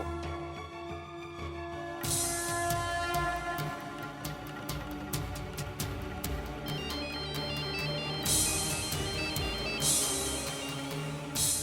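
A phone ringtone plays loudly and steadily, a repeating electronic melody with bright chiming bursts, continuing throughout with no talking.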